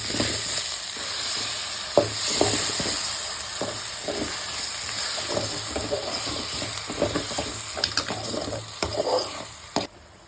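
Ginger and garlic sizzle and fry in a pan while a utensil stirs and scrapes intermittently, with a few sharper clinks, close and steady, no talking.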